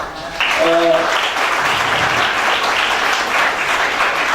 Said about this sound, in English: They have taken your clapping thing seriously.